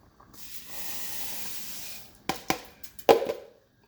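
Uncooked, unwashed rice poured into a pot for Jamaican gungo peas and rice: a steady hissing pour of grains, then several sharp rattling impacts near the end, close up and without any talk.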